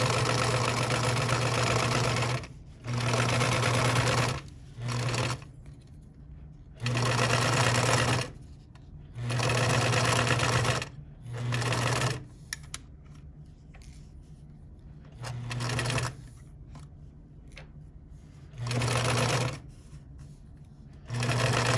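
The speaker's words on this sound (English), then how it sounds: "we don't want to sew over the pins" A sewing machine stitches pieced patchwork fabric in a quilting session, running in repeated bursts of a second or two with short pauses between seams, steady and close, with speech mixed in.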